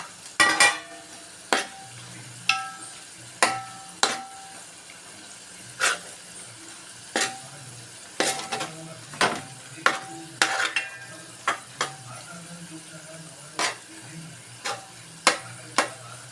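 Bitter gourd pieces fry in oil for a pickle, a soft steady sizzle under repeated sharp clinks and scrapes of a spoon stirring the pan at irregular intervals, no talk.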